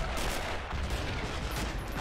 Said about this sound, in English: These things have huge explosions on them.